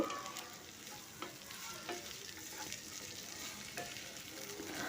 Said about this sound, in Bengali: রসুনটা দিয়ে দিলাম আর কাঁচা লঙ্কাটা দিয়ে এটা আরও কিছুক্ষণ একটু ভেজে নেব